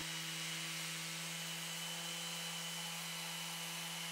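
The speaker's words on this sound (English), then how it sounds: "I managed to sand the bottom of the tabletop with my random orbital sander" A random orbital sander works over the bottom of an epoxy-filled tabletop, a loud, unbroken whirring hum with a steady pitch and gritty hiss throughout, no speech.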